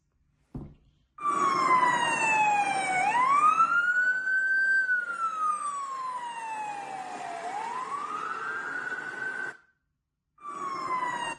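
An ambulance siren sweeps up and down in pitch, loud and close, then drops lower as it moves off, with brief silent gaps at the ends.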